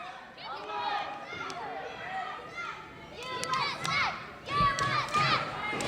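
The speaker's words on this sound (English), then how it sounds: "This crowd chanting USA" A wrestling crowd at a live event chants USA, rhythmic voices and shouts rising and falling across the arena, louder toward the end.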